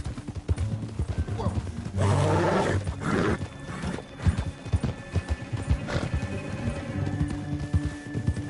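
Horse hooves clip-clop steadily in Red Dead Redemption 2 while a horse neighs loudly partway through, with rustling and movement around them, no talking.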